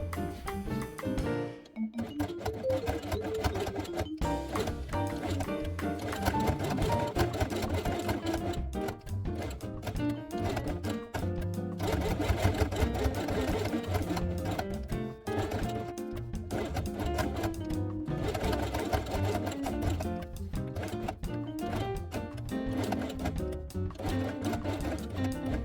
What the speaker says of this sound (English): Sew the closing strip to the last page of the book to its left page.